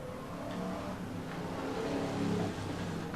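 BriSCA Formula 1 stock cars racing around the Skegness track in 1994, a continuous roaring engine drone that swells and fades slightly as they charge down the back straight, heard at middle distance with no voices.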